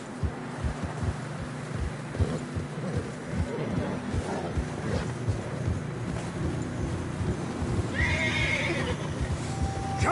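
A horse neighs loudly in Red Dead Redemption 2 over steady wind and rhythmic hoof clops on a narrow snowy trail, with another whinny rising near the end.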